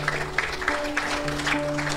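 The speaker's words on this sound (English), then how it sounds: "Let's give you a big round of applause." A church congregation applauds during a Sunday worship service, a steady, dense patter of many hands clapping close by.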